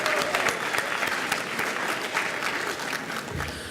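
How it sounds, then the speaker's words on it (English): Audience applause fills a hall at the 95th Speech Night, a school event, with dense steady clapping from a sizable crowd that holds throughout and eases slightly toward the end. "Can we all get a round of applause for the 95th Speech Night?"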